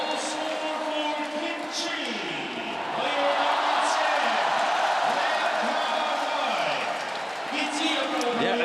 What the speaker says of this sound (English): Kichi pull one back, and the sound of the crowd really says it all.